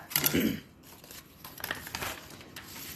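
Scissors snip paper for an origami rocket, with a few close, brief cuts and crinkles over three seconds, then softer handling sounds.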